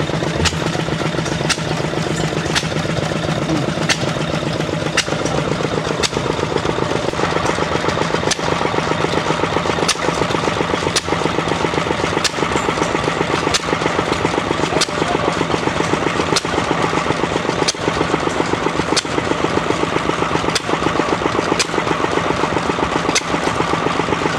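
A small Lister N engine runs steadily at idle with a regular thumping rhythm and faint periodic clicks, loud and continuous throughout.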